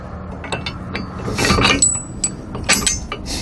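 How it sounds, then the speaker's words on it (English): A metal conical tooth washer slid onto the pin of a Fastway e2 weight distribution hitch, giving a few sharp clinks and scrapes of metal against metal, close by and alone. "we're going to go ahead and add another washer into that pin"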